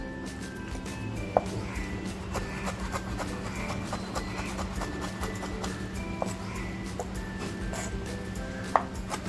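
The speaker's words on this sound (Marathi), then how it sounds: "आता ही कोळंबी आहे ना ती कट करून घेते" Knife chopping cleaned prawns on a board, a quick steady run of soft, close taps with a couple of sharper knocks, no talking.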